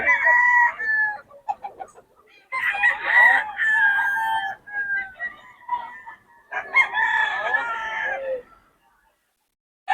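Several roosters crow in overlapping, drawn-out calls, one after another, fairly close at a Bocaue market, ending with a short silence.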